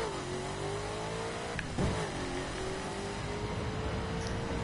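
Car in The Crew driving game launched from around 3,000 RPM, its engine note climbing steadily through the gears with a brief shift mid-run, loud and continuous.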